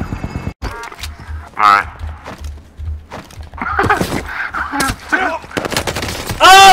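Call of Duty Warzone gunfire on the Fortune's Keep map, with scattered shots and short bursts mixed with excited close-up talking.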